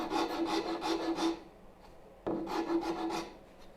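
A wood rasp files a wooden part of a turning bow saw, with two bursts of close, steady back-and-forth scraping strokes separated by a short pause.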